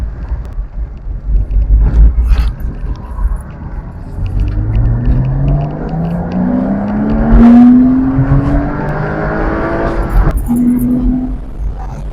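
A Porsche Boxster S (987) engine rumbles and revs nearby, its deep throaty tone rising and falling through several revs and gear changes.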